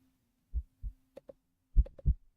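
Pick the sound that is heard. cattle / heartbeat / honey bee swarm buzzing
heartbeat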